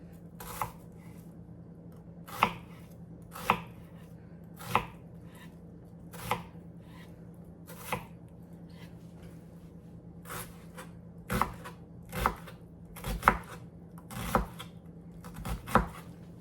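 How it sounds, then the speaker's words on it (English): A knife dices an onion on a cutting board for jambalaya, sharp close chops in irregular bursts separated by pauses, clear against a quiet low hum with no talk. "Next, we're going to dice up an onion."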